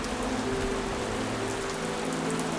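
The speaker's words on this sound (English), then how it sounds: "The rains continue." Steady rain falls in a monsoon setting near a dwarf kingfisher nest, a dense, even hiss of drops on surfaces throughout, with no voices.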